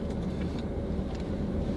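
A car being driven on a mountain trip, with a low steady engine and road rumble heard from inside the cabin, continuous and moderately quiet with no talk.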